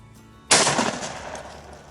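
Single loud, close shotgun blast at a sporting clays course, a sharp crack after brief quiet, trailing off in a long decaying echo.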